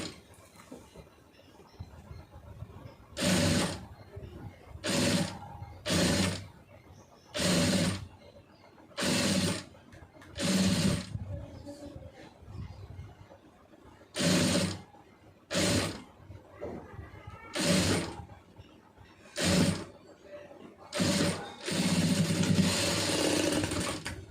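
A sewing machine stitches piping onto a neckline in repeated short bursts of rapid mechanical whirring, each run lasting a second or so and separated by quiet pauses, close and clear.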